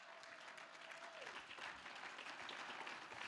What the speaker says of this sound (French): Oh yes, acclame le Seigneur.